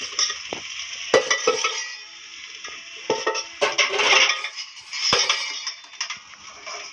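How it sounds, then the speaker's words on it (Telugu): A spatula scrapes and clinks against a pan while cooked rice and egg are stirred together for egg fried rice, with a soft sizzle underneath and irregular metallic taps throughout. "ఇగో ఎగ్ రైస్ మిక్స్ అయ్యేలాగా కలపాలి బాగా కలపాలి"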